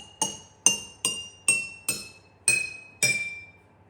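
A metal striker taps water-filled glass jars set up as a glass xylophone, giving seven bright, ringing clinks at a steady pace. Each tone rings out and fades, heard up close with no talking.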